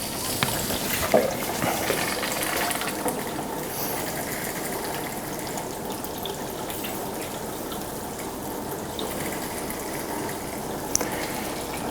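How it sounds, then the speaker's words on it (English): A cold water tap runs steadily, giving a soft continuous rushing flow with a faint hum behind it and a couple of small knocks. "I will now switch on the cold tap."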